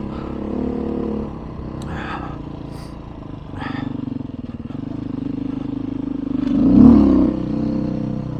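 A dirt bike engine on the Colorado Trail near Mt. Baldy drones steadily, with a rev swelling toward the end and clattering bumps over rough ground.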